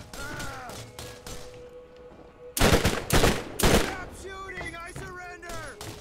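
Bursts of gunfire in the Borderlands PC shooter, loud and close, with rapid automatic volleys crowding the middle of the clip among other game effects and synthetic tones.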